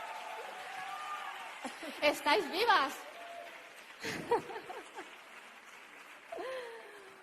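A crowd at a political debate event applauds loudly, and a voice shouts over the clapping partway through before the noise fades into a quieter room.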